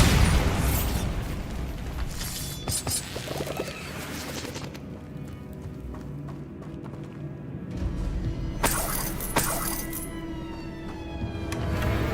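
A Bombarda spell detonates in Hogwarts Legacy with booming explosive bursts and crackling debris, loud and up close, recurring through the fight among other game effects and a sustained rumble.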